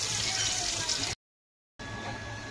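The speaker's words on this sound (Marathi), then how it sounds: "आपण या बटाट्यातलं आता पाणी काढून घेऊया।" Water from boiled potatoes pours off in a steady, close splashing stream, broken by a brief silent gap before it resumes.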